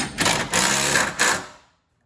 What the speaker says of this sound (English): Grab your impact. It's a T55 Torx again.